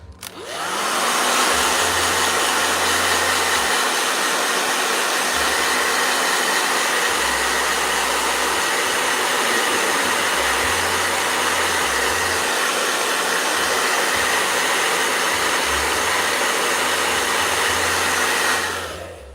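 A blow dryer runs loud and steady for nearly twenty seconds, a constant whooshing roar of air with a motor hum underneath, starting and stopping abruptly with no talking.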